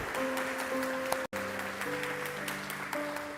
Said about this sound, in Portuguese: Você pode dar uma glória a Deus a Ele, aplaudir a presença dEle nesse lugar.